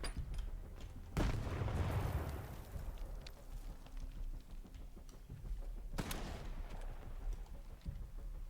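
A grenade explosion in S.T.A.L.K.E.R.: a sudden loud blast with a rumbling tail, followed later by another sharp bang amid quieter scattered game noises.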